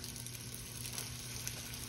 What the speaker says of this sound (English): Get a nice sizzle on there.